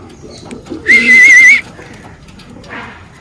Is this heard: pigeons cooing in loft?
yes